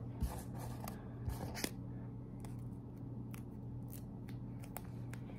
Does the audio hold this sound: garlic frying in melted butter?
no